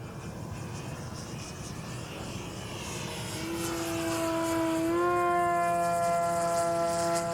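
An H-King Yak-11 RC model plane flies at full speed on a nearly drained battery. Its electric motor and propeller give a loud, continuous whine that climbs in pitch and holds steady, with no voices.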